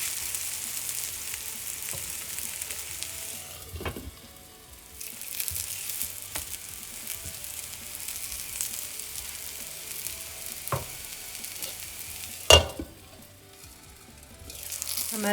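Eggplant slices fry in a pan as a steady, fairly quiet sizzle, broken by occasional clicks and knocks and one sharp louder clatter near the end.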